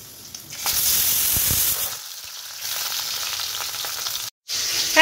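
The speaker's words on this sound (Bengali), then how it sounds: "এই মাছের মাথাটা ভাজছি" A fish head frying in a pan of hot oil gives a close, steady hiss and crackle that surges loud, eases off, then picks up again, with a brief silent gap near the end and no voices.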